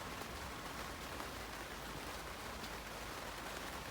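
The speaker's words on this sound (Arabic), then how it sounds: "سمعتوا الصوت ديال الشتا." Steady rain falls outdoors as a soft, continuous, even hiss with no distinct drops standing out, fairly faint throughout and with no voices.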